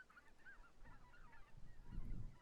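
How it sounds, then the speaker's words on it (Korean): Several honking calls from white-naped cranes, a protected natural monument, carry faint and distant across Junam Reservoir, a wintering wetland for migratory birds, over low background rumble. "천연기념물 제203호인 제두루미"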